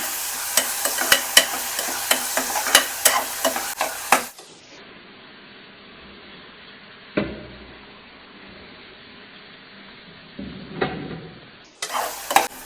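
A radish stir-fry gets turmeric, salt and chopped tomato stirred in. About four seconds of rapid, close spoon scraping and sizzling come first, then a long quiet stretch with only a couple of faint scrapes before a short final burst.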